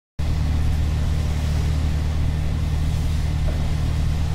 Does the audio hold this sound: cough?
no